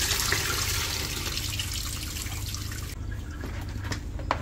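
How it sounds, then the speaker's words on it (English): Running tap water splashes steadily over meat being rinsed of lime and vinegar in a kitchen, loud and close, then cuts off near the end into quieter drips and handling. "lime and vinegar off your meat. Throw that off. Third rinse."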